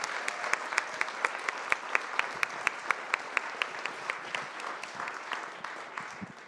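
An audience claps for a panel at a community talk, a moderate round of applause with individual claps standing out in a regular rhythm, fairly close, then tapering slightly toward the end.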